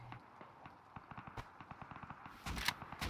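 AK rifle gunfire in the video game Rust, a rapid run of sharp shots at an even cadence, moderately close, ending in a louder cluttered burst.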